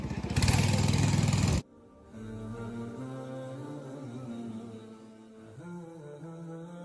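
A motor trawler boat engine chugs loudly at first with rapid rhythmic pulsing, then cuts off abruptly, followed by a lower, steadier hum with background sound.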